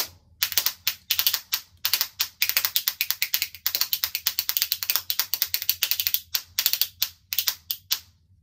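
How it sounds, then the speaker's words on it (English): Spoons clatter against a leg in a fast, uneven rhythm of sharp, bright clicks. Dense runs break up with short pauses for about eight seconds, fairly quiet and close, with no voices. "you're playing spoons on your leg"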